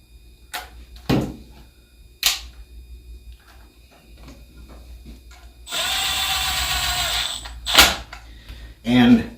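A ratchet bit driving an 8mm screw into a 4L60E transmission valve body, a steady close rapid clicking run of several seconds set between scattered tool clinks and knocks.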